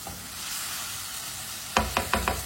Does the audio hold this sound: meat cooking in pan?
yes